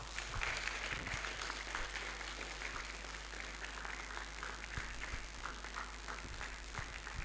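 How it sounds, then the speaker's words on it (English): An audience at a public forum in Ghana claps to welcome the Speaker of Parliament, a continuous, somewhat distant round of applause that stays steady under a constant low hum. "Let's welcome him with a very big round of applause."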